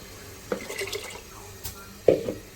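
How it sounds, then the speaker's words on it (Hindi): About one and a half glasses of water are poured into a cooker holding mash lentils, heard as two short splashing pours with quieter trickling between them. "अब मैं पानी डाल रही हूँ।"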